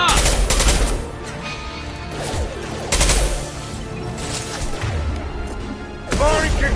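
Gunfire from the sci-fi shooter Mass Effect 2, loud bursts of shots with crashing impacts at about 0, 3 and 6 seconds, mixed with game music and effects.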